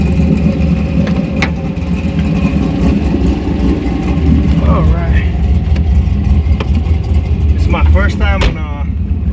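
A cammed LS2 V8 swapped into a Mazda MX-5 Miata rumbles low and continuously while driven slowly in the rain, the engine drone sitting beneath a person talking throughout.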